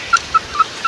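A chicken on a rural Philippine homestead gives four short, sharp clucks at an even pace, close and clear over a quiet outdoor background.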